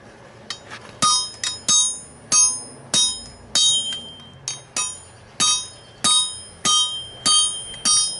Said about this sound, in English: I use this straight peen, moves the metal horizontal.